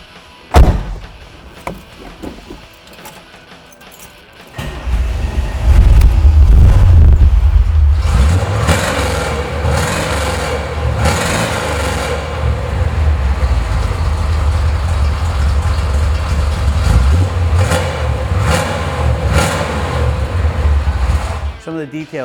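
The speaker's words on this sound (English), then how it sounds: "How about I start it for you so you can hear what it sounds like?" A 1969 Chevrolet Camaro Z/28 V8 cranks over and fires after a few seconds of quiet clicks, then settles into a loud, steady, throaty idle that runs for the rest of the clip.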